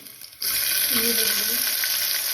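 Mustard seeds, cumin and garlic sizzle in hot oil inside a pressure cooker, a loud, steady frying hiss that starts abruptly and carries on without a break, with no talking over it.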